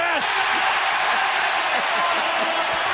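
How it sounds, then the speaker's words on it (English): A basketball arena crowd roars in a loud, sustained wall of cheering after a Caleb Martin free throw in a 76ers game, coming through a broadcast with no gaps from start to end. "And the crowd explodes."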